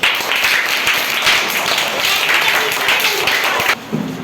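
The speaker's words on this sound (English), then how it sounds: "Clapping for Naresh." Sustained classroom applause for a student's solar system chart showing the sun and planets, dense steady clapping from many hands that cuts off near the end as a voice begins.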